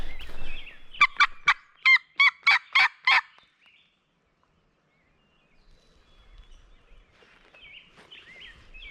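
An eastern wild turkey gobbler lets out a loud, rolling gobble of about eight rapid pulses, followed by quiet outdoor woodland ambience with faint distant bird calls.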